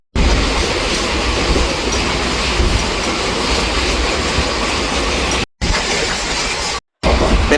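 Loud, steady rumble and rattle of the Nagercoil to Chennai Central weekly express train running, with wheel clatter and faint squeals, broken by two brief cuts to silence.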